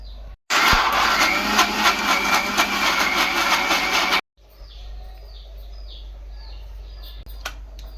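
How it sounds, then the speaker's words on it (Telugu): A mixer grinder whirs loudly for about four seconds, grinding ginger pieces, green chillies and cowpea lentils, then cuts off abruptly. Quieter kitchen rustling and a couple of faint clicks come before and after the run. "ఇలా అల్లం ముక్కలు పచ్చిమిరపకాయ ముక్కలు మిక్సింగ్ చేసుకుంటూ ఇది గ్రైండ్ చేసుకోవాలి"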